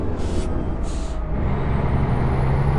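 Air brakes on a truck in American Truck Simulator hiss twice in short bursts over a steady engine rumble, followed by a continuous drone.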